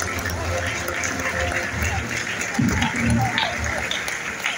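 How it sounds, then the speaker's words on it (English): An audience at a medical event's prize distribution applauds the award winners, a continuous crowd clapping with speech and background noise mixed in. "let us give a huge round of applause for all the awardees, please"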